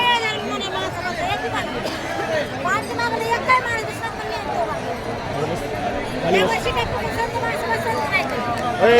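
A large crowd gathers at the Pandharpur ringan festival of 2024, a dense, continuous babble of many voices close by, with nearby people talking throughout.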